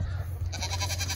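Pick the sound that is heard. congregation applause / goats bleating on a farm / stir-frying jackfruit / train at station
goats bleating on a farm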